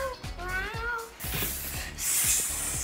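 A person imitates a cat, giving a wavering meow-like call up close, followed by a short breathy hiss-like burst, over a low background murmur.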